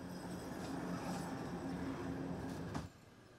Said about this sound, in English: A train said to be carrying Russian military vehicles arrives in